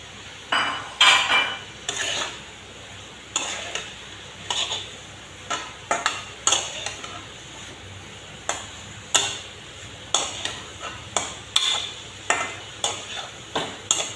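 Fried cauliflower and beans stirred into a curry pan, repeated metallic clanks and scrapes of a spoon against the pot in uneven bursts over a faint sizzle, close and without talk.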